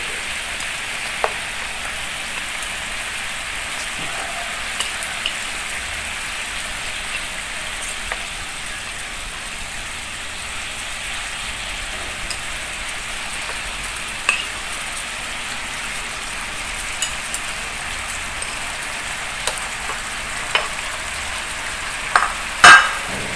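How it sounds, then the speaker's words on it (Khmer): Pork ribs cooking in boiling fish sauce and honey give a steady soft sizzle and bubbling, with occasional small pops and clinks near the end and no speech. "ទឹកត្រីពុះទឹកឃ្មុំពុះហើយយើងដាក់ឆ្អឹងជំនីចូលតែម្ដង"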